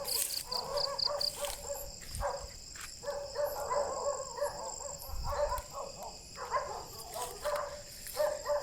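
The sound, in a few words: dogs barking at night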